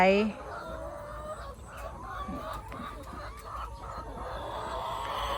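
Laying hens on a small farm in northeast Thailand cluck in short, repeated calls that start close and clear, then fade under steady background noise and faint voices.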